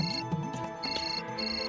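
Phone ringtone for an incoming call, a short melodic electronic tune repeating its bright chiming phrase a few times at moderate volume, with no voices over it.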